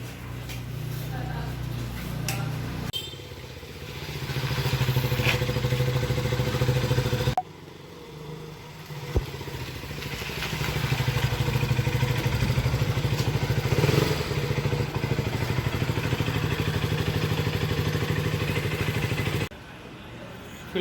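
A modified KTM Duke 200 fitted with handlebar risers is ridden on the road, its engine droning loudly and steadily with wind rush, a few bumps and brief cuts where the recording jumps between sections.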